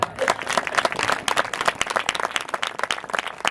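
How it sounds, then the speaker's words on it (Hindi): A church congregation bursts into applause during a sermon, many hands clapping in a lively, uneven crackle that stays full and close throughout. "हमारी तालियों के साथ"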